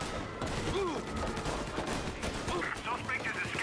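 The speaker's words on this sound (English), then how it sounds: "Gunfire and an explosion reported in the Corleone Hotel." Gunfire from the Mafia: Definitive Edition video game, rapid shots crackling in bursts under a steady background of game audio and a radio voice, fairly loud throughout.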